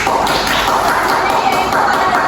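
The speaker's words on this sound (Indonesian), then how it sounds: "Beri tepuk tangan kepada Sesti." Steady, dense applause fills a classroom as students clap for a classmate, a continuous crackling patter that holds at an even, fairly loud level throughout.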